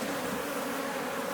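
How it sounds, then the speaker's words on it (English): Honey bees swarm around an open hive during a split inspection, a dense continuous buzzing that fills the space, close and steady with no other sounds. "Well, the bees aren't stinging"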